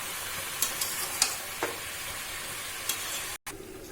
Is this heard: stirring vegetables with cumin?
yes